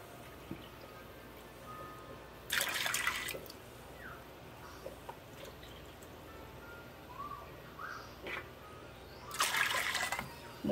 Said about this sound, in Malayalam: മൂന്ന് കപ്പ് വെള്ളം ഒഴിച്ചിട്ടുണ്ട്